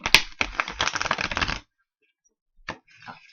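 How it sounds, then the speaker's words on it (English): Someone shuffles a deck of tarot-style reading cards with small hands: a rapid, close riffling flutter for about a second and a half, then quiet, a single soft click and a few faint rustles. "My hands are so small that I can barely shuffle my cards."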